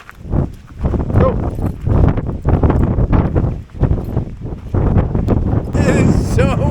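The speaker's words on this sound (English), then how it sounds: "It is so windy." Strong gusty wind buffets the microphone with loud, rumbling roar throughout in a California poppy field, while a person talks over it.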